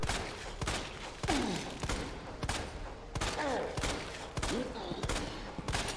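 Gunfire in a video game boss fight: repeated sharp shots in quick bursts with thumping impacts, fairly quiet and steady across the whole stretch, with faint sweeping effects between shots.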